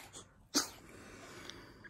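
A single sharp sneeze bursts out once, close and fairly loud, against a quiet indoor background with faint breathing noise around it.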